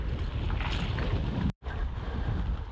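A strong crosswind buffets the microphone on an open field road during a mountain-bike ride, a dense roaring rush that cuts out for an instant and then resumes just as loud.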